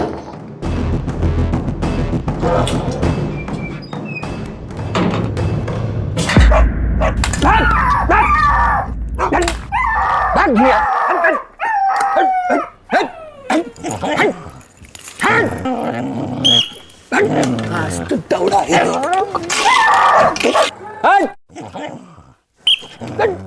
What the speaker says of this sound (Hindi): वो बिल्डिंग में कुत्ता लोग बहुत घुस गया है, मतलब डॉगी